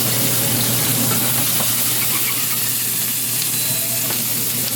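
Pasteurized Louisiana andouille sausage browning in a hot pan, a loud steady sizzle and crackle of frying with a constant low hum underneath, no talking.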